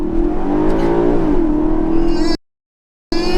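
A loud Volkswagen Golf R Mk7 DSG engine drones and revs with a rising, shifting pitch as it accelerates hard from a standing start at traffic lights, then cuts to silence briefly before the engine noise returns.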